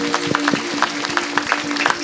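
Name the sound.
congregation clapping loudly to thank God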